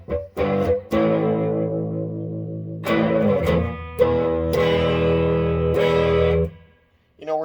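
Electric guitar through a Peavey Mace VT amp with pre-gain around 5, slightly distorted at the edge of breakup, ringing chords that sustain for several seconds each, loud and close, with no talking.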